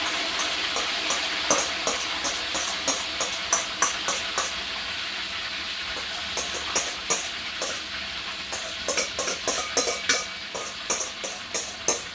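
Blended onion, spring onion, garlic, sweet peppers, chopped tomatoes and bay leaves fry in hot oil for jollof rice, with a steady loud sizzle broken by regular rhythmic spoon scrapes and taps, close up, with no talk.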